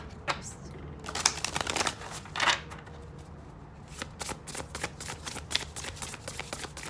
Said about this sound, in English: We're gonna give it one more shuffle here.